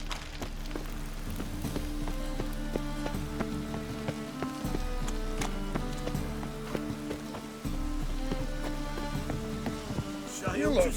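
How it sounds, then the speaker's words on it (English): Steady rain falls in the video game The Witcher 3, a continuous hiss beneath layered tonal game music throughout. "Must like the rain, that one."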